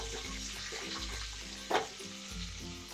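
Ingredients frying and being stirred in a hot pan for mutton curry, a steady close sizzle with a brief louder burst of spatter midway.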